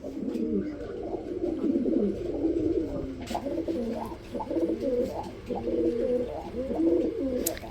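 Pigeons in a loft of fancy breeds coo continuously at close range, with overlapping rolling calls from several birds over about eight seconds, and a few faint clicks behind them.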